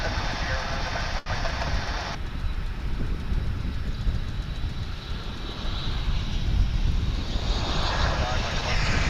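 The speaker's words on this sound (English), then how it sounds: "This American Airlines flight 1924 coming in from Querétaro in Mexico." An American Airlines Airbus A319 arrives at Dallas/Fort Worth International Airport from Querétaro, Mexico, a broad, steady engine rumble swelling as it nears, with voices talking over it.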